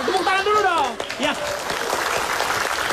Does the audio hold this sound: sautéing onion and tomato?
no